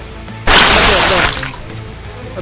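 A grenade goes off in the rat-versus-cyborg-rat shooter War Rats: a sudden loud blast of roughly a second with crackling, debris-like noise, then fading into the game's background.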